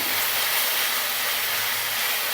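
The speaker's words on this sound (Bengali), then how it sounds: "এবার কাঁচা লঙ্কা আদা রসুনের পেস্টটা অ্যাড করে দেবো দু তিন মিনিটের মতো আমরা ভেজে নেব" Green chilli and ginger-garlic paste fry with onions in a pan for a chicken dish, giving a loud, steady, unbroken sizzling hiss with no voices.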